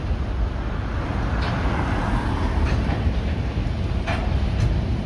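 A GE ES43BBi diesel locomotive hauling limestone on a Brazilian freight corridor makes a loud, steady rolling rumble with a faint rail clatter throughout, and no voices are heard.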